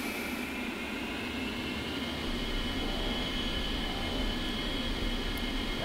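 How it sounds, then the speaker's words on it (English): A-10C jet engines in the DCS flight simulator spool up at the start of a taxi, a steady loud turbine roar with a rising high whine that holds continuously, no voices. "Okay, so now we throttle up."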